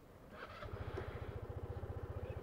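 A Sym Symphony 200i scooter engine starts at once after a brief whir, then settles into an even, thumping idle, close and steady, with no talking.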